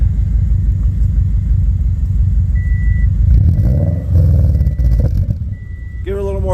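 A 2007 Subaru Impreza fitted with a Tsudo headers-back exhaust revs up, giving a loud, steady low rumble that swells and rises in pitch. Voices talk over the engine, and a series of electronic beeps chirps intermittently throughout.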